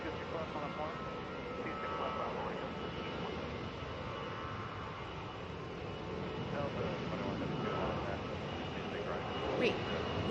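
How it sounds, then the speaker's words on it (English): A 30-year-old Airbus A320 airliner bound for San Antonio passes at an airport, its steady broad jet roar holding at moderate loudness throughout and swelling slightly near the end. "Next up for Texas, A320 to San Antonio, 30-year-old plane."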